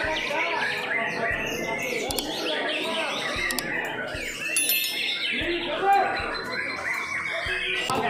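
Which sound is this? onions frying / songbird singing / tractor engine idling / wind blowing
songbird singing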